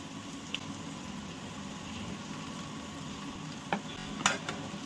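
Gulab jamun made from curdled, soured milk frying in hot oil in a home kitchen, giving a steady close sizzle with a few soft stirring clicks and scrapes, without any voices.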